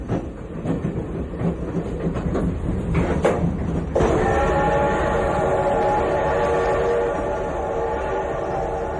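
A train rolls on rails with a loud, continuous rumble and wheel clatter. About halfway through, a sustained whistle-like tone joins in and holds steady to the end.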